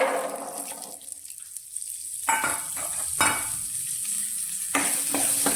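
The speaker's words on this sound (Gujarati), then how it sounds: "અને 1 મિનિટ માટે આ દાણાને સારી રીતે સાતળી લઈશું, જેથી મીઠાની ફ્લેવર દાણાની અંદર આવી જાય." Tuvar beans sautéing in oil with turmeric crackle and hiss up close, broken by a few sharp stirring scrapes spaced a second or so apart.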